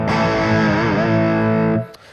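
Distorted electric guitar through a Friedman amp model on a NUX MG-300 multi-effects pedal with light reverb, a sustained chord rings out loudly for nearly two seconds before cutting off abruptly.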